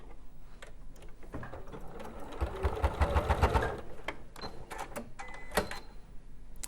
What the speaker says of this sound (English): sew together along the front to sandwich the beak in place